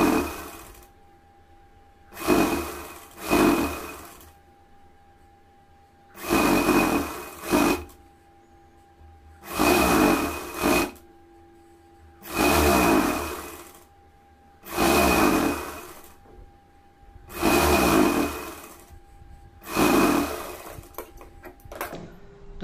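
A sewing machine stitches piping onto a garment neckline in eight short, evenly spaced runs of two or three seconds each. Quiet pauses separate the runs, and the machine is close and clear.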